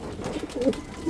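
Soft, low cooing from pigeons close by, a few gentle warbling calls over a quiet background.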